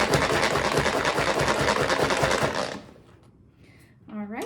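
Manual pull-cord food processor chopping a seeded, quartered jalapeno, a rapid close whirring clatter of spinning blades for almost three seconds, then stopping, followed by a brief voice.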